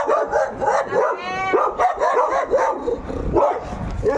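A dog barks repeatedly in rapid, loud yaps and whimpering yips close by in a hillside neighbourhood of Comuna 13 in Medellín, with little talk.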